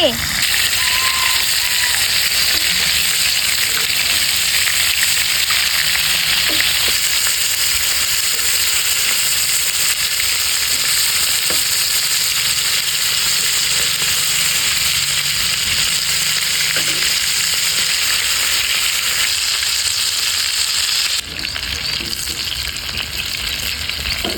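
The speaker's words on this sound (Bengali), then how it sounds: "চিংড়ি মাছ ফ্রাই হয়ে গেছে।" Giant river prawns fry in a pan with a loud, continuous sizzle that stays even throughout, broken by a few faint knocks and small shifts as the prawns are moved.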